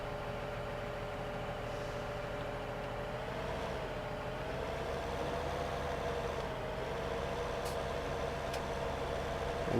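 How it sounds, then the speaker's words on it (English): Tractor engine in Farming Simulator 17, a steady mid-pitched idling drone with low harmonic hum, holding constant for about ten seconds and rising slightly near the end, no talk. "squeeze the tractor through this"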